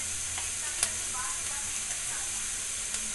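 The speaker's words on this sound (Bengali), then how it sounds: "আমাদের গাজর মোটামুটি ভাজা হয়ে গেছে, এবার আমি এবার একটু নুন দিয়ে দেবো," Carrots frying in oil in a pan, a steady hiss of sizzling with a few sharp clicks and scrapes of stirring, close and fairly quiet throughout.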